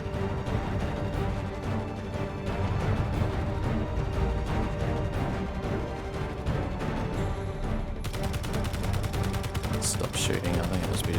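A Gatling gun fires in the game Space Engineers, a dense, continuous rapid-fire roar of rattling shots lasting throughout, loud and close, with a voice speaking over it.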